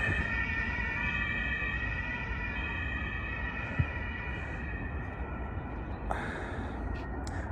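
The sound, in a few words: ambulance siren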